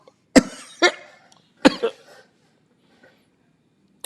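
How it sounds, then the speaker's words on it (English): A person coughs a few times, two sharp bursts close together and then another pair, loud and near against an otherwise quiet background. "coughing based off of what she just said."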